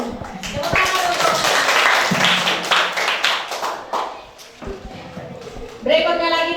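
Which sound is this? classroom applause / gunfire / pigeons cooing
classroom applause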